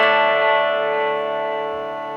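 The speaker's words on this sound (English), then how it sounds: "a bit of delay there, let's take that off" A single chord on an Epiphone Les Paul Goldtop's bridge pickup, played through a Vox AC4TV amp with delay, rings out sustained and slowly fades.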